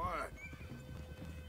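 A horse in Red Dead Redemption 2 lets out a short, bright whinny at the start, followed by soft low hoof thuds and faint background noise.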